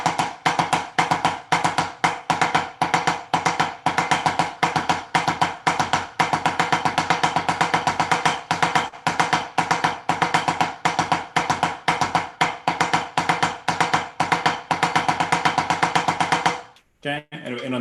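Drum sticking exercise played with inverted sticking, a dense run of rapid strokes going on without a break, close and loud, stopping just before the end.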